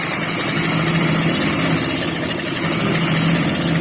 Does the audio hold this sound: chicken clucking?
no